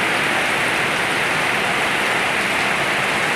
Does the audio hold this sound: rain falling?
yes